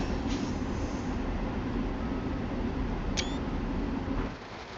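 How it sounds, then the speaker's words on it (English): Steady rain hiss in an LIRR-themed train video game, a dense even wash with a low rumble beneath and a brief sharp click near the end, with no talk. "Well, the rain's actually pretty good in here."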